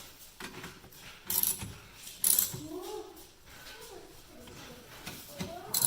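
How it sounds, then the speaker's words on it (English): A ratchet tightens the nuts on the wiper motor of a 2004 Dodge Durango, with short bursts of metallic clicking and clanks amid quiet shuffling and a brief voice. "I'll take my ratchet and go ahead and tighten those a little bit more"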